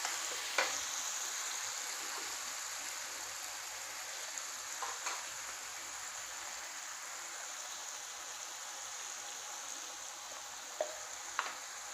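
Paste of tomato, onion and green chilli frying in a pan for a pabda fish and eggplant curry, a soft, steady sizzle with a few scattered spoon taps, quiet and close, without speech.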